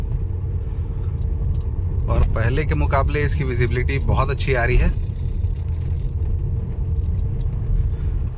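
A Tata Harrier SUV drives along a road at night on low beam, its steady engine and road rumble continuous throughout while someone talks over it midway.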